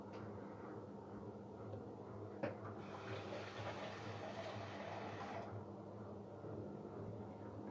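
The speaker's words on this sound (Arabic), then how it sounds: "ممكن نص كوبايه ميه كمان احطها لها." Water poured from a cup into a bowl of soaking food in a home kitchen during Ramadan preparations, a steady soft splashing pour lasting a few seconds at close range, with a faint background hum.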